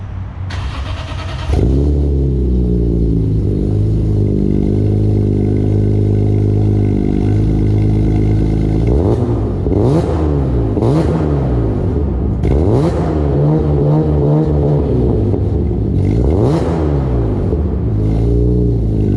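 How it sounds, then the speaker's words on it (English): A BMW E46 M3 engine revs hard and sustained, its raspy exhaust rumbling loud and close with repeated throttle blips and rising, falling pitch sweeps and no talking. "I really like the rasp on this car"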